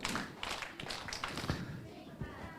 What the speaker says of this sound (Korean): 칭찬 박수 시작